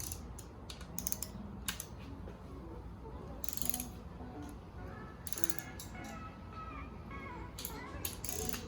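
A torque wrench ratchets on crankshaft bolts during a Mini Cooper S R53 piston and crankshaft install, giving faint, irregular bursts of clicking ratchet strokes, close by in a quiet workshop.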